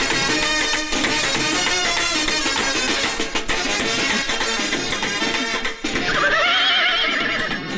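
A horse neighs loudly over a busy music track, its whinny rising near the end, with a horse-drawn cart implied in the scene.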